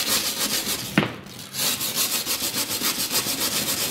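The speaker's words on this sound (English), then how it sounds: "you just want to scrape at it. Do a circular motion, and basically we're eating through to the rust on the other side" Scraping at layered paint on a faux-finished surface in a circular motion, cutting through toward a rust layer; a steady rhythmic rasping repeats close up with one brief sharp knock early on.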